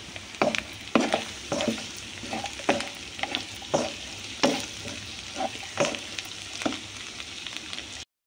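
A curry with cashews and chilli powder frying in a pan, a steady sizzle broken by repeated spatula scrapes and knocks every half second or so, close by and without speech.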